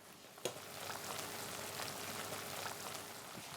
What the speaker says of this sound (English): So into the boiling salted water, you'll find it, of course, it boils down or collapses down to quite a small amount